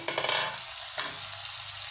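Steamed cauliflower is stir-fried in a covered pan. A spatula scrapes and stirs in a couple of quick strokes at the start, then a soft steady sizzle continues alone, quiet and close.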